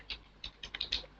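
Quick keystrokes on a computer keyboard, a short burst of about six light clicks at an uneven rhythm, close and quiet with no talking.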